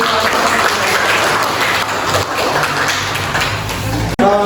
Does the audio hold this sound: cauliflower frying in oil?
no